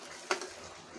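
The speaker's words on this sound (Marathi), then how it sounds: "पण तेल सुटेपर्यंत आपण यात हा मसाला भाजून घ्यायचा आहे" Onion-coconut masala roasts in oil in a pan with a steady soft sizzle, broken by one sharp stirring scrape and a lighter clink close by.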